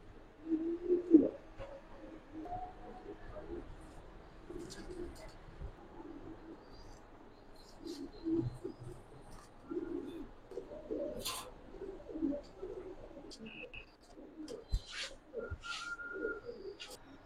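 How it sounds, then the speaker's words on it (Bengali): Pigeons at a Bangladeshi pigeon farm, racing and fancy breeds such as Raj Golla and Giribaz, give soft repeated coos and scattered calls throughout, with faint chirps and light background noise but no clear talk. "এখানে দুইটা বার আছে ক্লাবের কবুতর"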